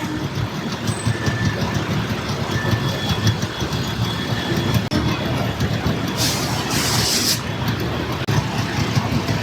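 A double-decker train rumbles past on the rail line beside a road where traffic has stopped, giving a steady, loud broadband roar with a brief hiss of air midway through, and no voices are heard.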